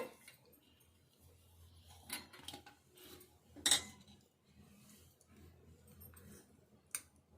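Egg batter for egg ponganalu is stirred in a bowl with a spoon, giving soft, irregular clinks and scrapes against the sides, quiet and close, with a couple of sharper taps.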